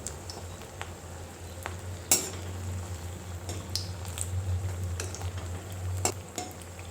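Kundru (ivy gourd) leaves fry in hot oil as a crispy snack, a soft continuous sizzle with scattered crackles and pops, plus occasional scraping clinks of a utensil stirring in the pan.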